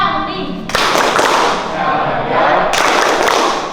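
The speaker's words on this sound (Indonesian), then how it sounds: "yuk kita lakukan refleksi dengan tepuk Islam" A class clapping the Tepuk Islam chant, with loud, dense rhythmic clapping in two bursts separated by brief pauses, close and bright.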